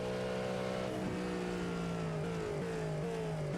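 Race car engine at Magny-Cours during a six-hour endurance race, a steady sustained drone with a pitch that drops as the car slows for a braking zone, heard without talk.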